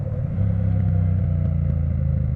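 A Triumph Bonneville T120 DGR Edition motorcycle engine runs close by with a deep, steady, throbbing idle and a slight rise in revs, with no voices.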